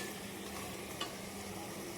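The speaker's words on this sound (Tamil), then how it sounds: "இது நல்லா வதக்கணும்" Onion, tomato, ginger, garlic, mint and coriander sauté in a pan for a mutton and broad bean curry, giving a steady, soft sizzle with a faint stirring scrape, no voices.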